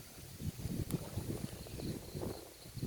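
Cold wind blows outdoors by still floodwater under an overcast sky, a steady low rumble of buffeting gusts across the microphone with no voices.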